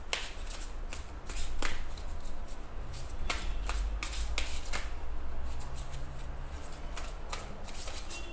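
Tarot guidance cards are shuffled continuously, a close, steady papery riffling with sharp snapping flicks at irregular moments, heard alone without speech.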